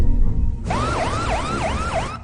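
An ambulance siren in a movie scene wails in repeated rising-and-falling sweeps, about five cycles, loud and close, starting abruptly after a brief low rumble and cutting off near the end.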